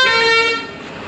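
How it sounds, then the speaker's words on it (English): A loud, close vehicle horn blares in one sustained honk on a road in Uttar Pradesh, India, near a petrol station, then cuts off and leaves traffic rumble. "For no reason he's honking, man."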